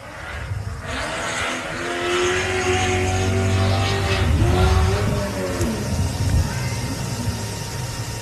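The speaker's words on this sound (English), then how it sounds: "And listen to that Joe Gibbs V8 power, Bo Robinson." A Joe Gibbs–built V8 race car engine roars at high revs at an off-road 4x4 adventure park race, its pitch rising and falling through gear changes, loud and close throughout.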